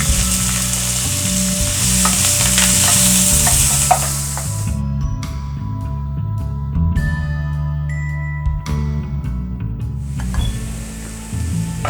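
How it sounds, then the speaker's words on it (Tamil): Chopped onion and curry leaves fry in hot oil for shrimp thokku with a steady, loud sizzle, broken by occasional scraping and stirring, then the sizzle fades and resumes. "இப்போ நான் ஒரு பெரிய சைஸ் வெங்காயம் பொடியா நறுக்கி வச்சிருக்கேன். ஒரு வெங்காயமும் ஒரு கொத்து கருவேப்பிலையும் இதில் சேர்த்துக்கலாம்"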